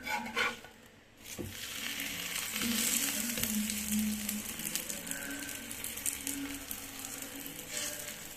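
Ghee poli, a sweet flatbread, sizzles steadily in ghee on a hot pan, a soft continuous frying hiss with occasional light scrapes, quiet and close with no talk.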